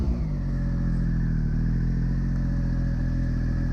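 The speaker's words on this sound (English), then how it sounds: "it's got that traditional sounding Triumph triple sound" A Triumph Speed Triple RS motorcycle's inline triple engine hums at a steady idle, close and loud, without talk.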